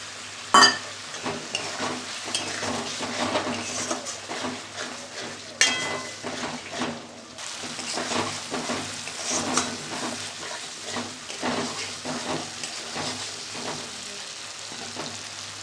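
Spice masala for boal fish kalia, with cumin powder, tomato and a little water, frying and being stirred in a pan, giving a steady close sizzle broken by repeated scraping stir strokes, with one sharp clatter near the start.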